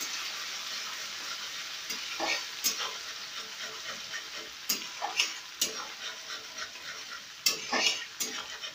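Food in a frying pan being stirred with chili paste added, giving a continuous bright sizzle broken by repeated sharp scrapes and clinks of a spoon against the pan. The clinks come in irregular bursts, close and fairly loud.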